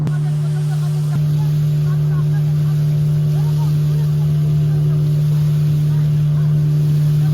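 A motorboat engine drones steadily and close at hand throughout the boat ride, a loud, even hum with faint background noise and no break in the sound.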